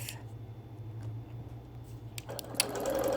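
A sewing machine machine-quilts a wool appliquéd quilt, humming low and steady with light ticking stitches, close by and moderately quiet, growing busier toward the end.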